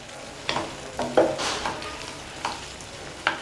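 A spoon stirring potato masala in a pan: soft scraping strokes at an uneven pace with a faint sizzle underneath, close by and with no talking.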